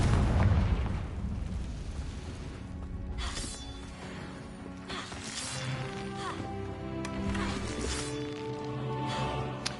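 Confringo fire spell in Hogwarts Legacy, a loud opening blast followed by rumbling booms, crackling bursts and swelling music-like tones, with a voice speaking briefly over the game sound.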